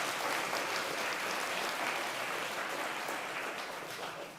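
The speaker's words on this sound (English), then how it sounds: "So stand up, let's give her a round of applause." Applause for Commissioner Michelle Long-Spear at the State of DeKalb Animals Address, a dense, even wash of clapping from a standing crowd that holds steady, then starts to taper off near the end.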